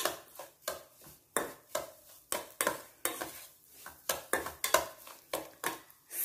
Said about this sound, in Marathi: स्टीलचं भांडं असल्यामुळं एकसारखं हलवायचं